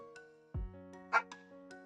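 A dog gives a short bark followed by a sharper yip, close by, over a steady electronic hum.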